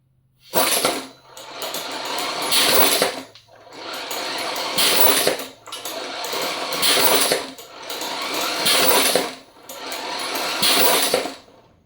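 A compressed-air engine running on about 45 psi from an air compressor, giving a rapid mechanical clatter in repeated bursts of a few seconds each with short gaps between them.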